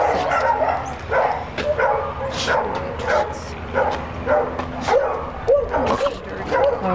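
A ball-obsessed dog at a shelter pen barks, yips and whines in a close, busy run of eager calls, with people talking and cooing over it.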